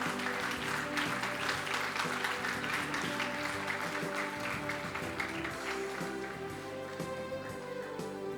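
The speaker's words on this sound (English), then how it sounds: "Audience, please keep your claps rolling." A crowd claps steadily throughout at a school ICSE felicitation and prize distribution ceremony, the dense applause fairly loud and sustained over a faint tonal background hum.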